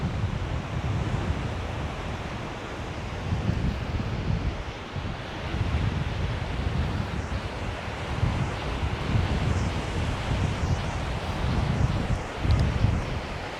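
On a beach near Hua Hin and Cha Am in Thailand, waves wash in with soft, repeated surges under constant gusting wind buffeting the microphone.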